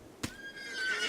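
A horse in the Rimworld video game gives a short, sharp neigh with a high whinnying tail, clear and close, with no other sounds.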